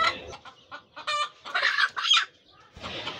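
A domestic country hen brooding on eggs in a basket clucks in loud, close bursts, a few sharp squawking calls between quieter gaps.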